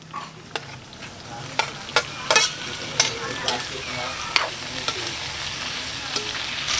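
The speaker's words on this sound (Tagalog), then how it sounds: "igisa natin siya. Bawang, sabay natin yung luya, sibuyas," Garlic, ginger and onion sauté in a hot pan with a steady sizzle. A spatula knocks and scrapes against the pan in irregular taps, close and clear.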